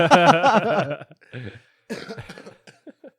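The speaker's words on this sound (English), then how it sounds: "I got this desert cough." A burst of harsh desert cough up close, followed after a short pause by a few more rough coughs and throat-clearing sounds, fading into small clicks.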